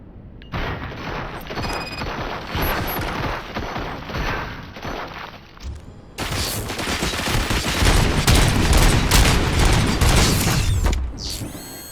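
Gunfire in the RoboCop: Rogue City video game, bursts of loud shots and mechanical clatter that build into a dense, continuous barrage in the second half.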